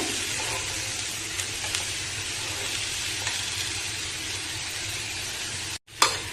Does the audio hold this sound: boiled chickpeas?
yes